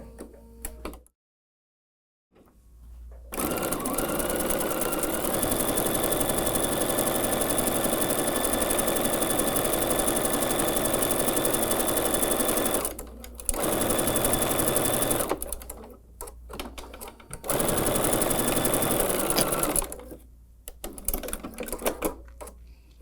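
A sewing machine stitching a quarter-inch seam through fabric, loud and close, running in long steady bursts of rapid whirring with brief pauses between runs.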